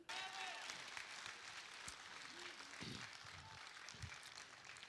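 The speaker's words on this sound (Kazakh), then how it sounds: "Шапалақ ұрып қояйық." An audience applauds at a live stage show, a steady wash of clapping from many hands that carries on without a break through the whole stretch.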